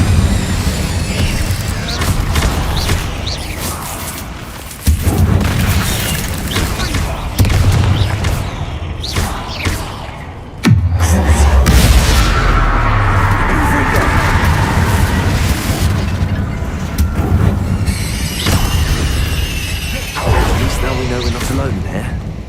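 Incendio fire spell blasts in Hogwarts Legacy, a series of loud booming bursts and crackling impacts amid dense game combat noise, with speech running over much of it.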